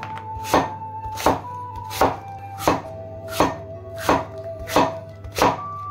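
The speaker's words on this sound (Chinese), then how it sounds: "然后去掉不能食用的苹果核， 再用刀切成片，" A knife slicing an apple into pieces on a cutting board, with eight sharp, evenly spaced chops and a steady rhythm, close and clear with no talk.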